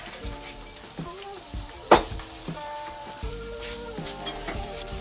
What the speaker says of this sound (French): Vous rajoutez un petit filet d'huile d'olive, une belle noisette de beurre et vous faites sauter vos champignons